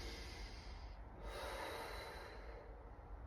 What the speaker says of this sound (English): 6 breaths through your nose